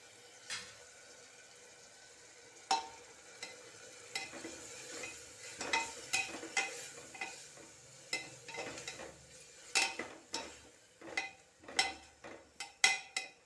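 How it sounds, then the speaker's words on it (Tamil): Ginger, garlic and spices sizzle and crackle in a hot pan with a steady frying hiss, with stirring clatter coming in irregular bursts that grow busier toward the end. "இஞ்சி பூண்டு எல்லாம் போட்டு சேர்த்துட்டு இது கொஞ்சம் நேரம் வதங்கட்டும்"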